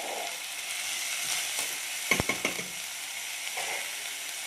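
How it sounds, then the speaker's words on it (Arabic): Onions frying in a small amount of oil in a pan, a steady bright sizzle throughout, with a brief burst of scraping and stirring clatter midway, close up and without talk. "نحط البصل"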